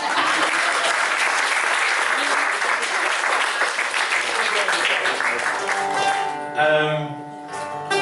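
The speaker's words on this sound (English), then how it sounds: "Give yourselves a round of applause." An audience gives a full, loud round of applause for a live music show, dense clapping sustained for several seconds before fading as a voice begins talking near the end.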